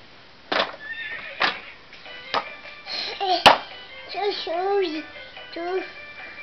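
A horse neighs in several whinnies mixed with clip-clop-like taps. A voice chatters nearby, and the voice may be imitating the horse.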